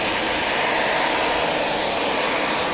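A KLM Boeing 787-9 airliner on flight 597 to Cape Town gives a steady, broad jet engine roar at Amsterdam Schiphol, moderately loud and unbroken, with no voices.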